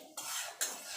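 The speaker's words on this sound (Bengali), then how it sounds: "ফোড়নটা একটুখানি ভাজা ভাজা করে নেব।" Whole cumin seeds and bay leaf dropped into hot oil for a tempering give two sudden bursts of sharp hissing sizzle, close and fairly loud.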